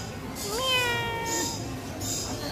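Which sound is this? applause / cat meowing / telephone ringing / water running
cat meowing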